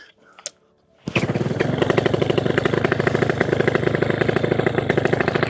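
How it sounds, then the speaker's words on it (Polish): Paramotor engine with a Walbro carburetor catching after a brief silence and settling into a steady, loud, throbbing idle close by, rhythmic pulses continuing without break. "Jak widzicie, silnik odpala bez problemu."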